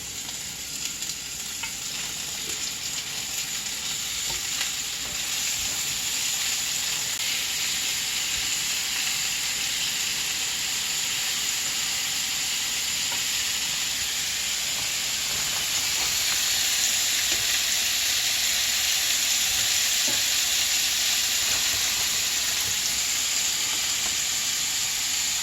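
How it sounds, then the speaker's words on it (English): Pork chops frying in olive oil in a pan, a steady, dense sizzle that holds at an even loudness throughout, close and continuous with no talking. "Put a little olive oil in there. And let's get these chops in."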